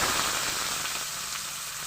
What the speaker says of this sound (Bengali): এবার আমি বেরেস্তা ভেজে নেব তার জন্য আমি পেঁয়াজ কেটে রেখেছিলাম